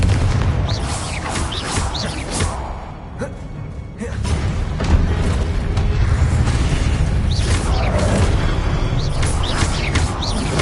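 Repeated Confringo blasting-spell explosions from the video game Hogwarts Legacy, booming thuds layered over dense magical combat effects and a low rumbling bed, continuous and loud with a brief lull midway.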